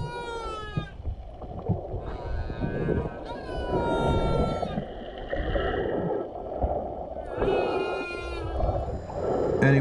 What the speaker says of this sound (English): the actual whales that we were listening to out there making those clicking noises